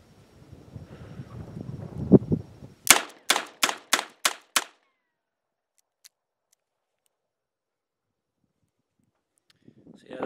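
A Chiappa Rhino revolver fires .38 Special rounds outdoors. After wind buffets the microphone, five sharp, loud shots ring out in quick, even succession, then a long silence with a faint tap.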